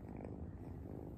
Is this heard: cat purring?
yes